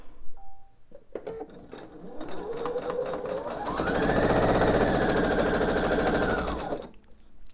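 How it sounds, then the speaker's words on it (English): A sewing machine stitches a scant quarter-inch seam joining two quilt triangles, starting with a few clicks, then whirring steadily and rising to a loud, rapid mechanical hum before stopping. "And sew my scant quarter inch seam."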